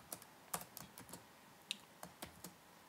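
Typing on a computer keyboard while entering code: sparse, separate keystrokes heard up close and fairly faint, a few sharper clicks among them, with no talking.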